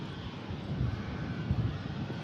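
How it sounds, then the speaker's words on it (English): An airliner climbing out after takeoff leaves a faint, distant low rumble that wavers slightly, with a touch of wind noise and no talking. "Airways shuttle climbs out."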